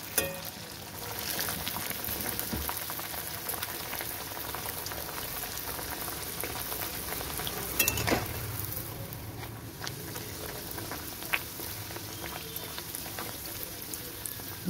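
A pea-stuffed kachori deep-fries in a wok of hot oil. It bubbles and sizzles steadily up close, with a few brief clinks and no talk.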